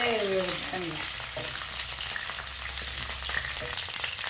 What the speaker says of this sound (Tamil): கத்திரிக்காவை நல்லா வதக்கி எடுத்து வச்சுட்டு அதுக்கப்புறமா அந்த எண்ணெயிலே வெங்காயம் வதக்கணும்.